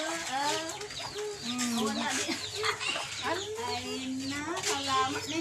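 A rooster at a cockfighting setting, with several chickens clucking and crowing in close, overlapping calls that run throughout, mixed with laughter and people talking nearby.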